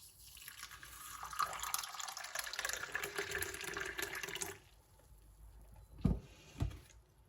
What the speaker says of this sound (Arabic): وغادي نضيف عليهم ماء مغلي